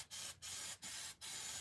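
Hairspray hisses from an aerosol can onto an N scale model railway layout in four quick, even bursts separated by brief pauses, close and fairly quiet.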